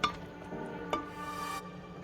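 A spoon stirs a macaroni and water mixture in a pressure cooker pot, with two sharp clinks against the metal among softer scraping and sloshing, close and without speech.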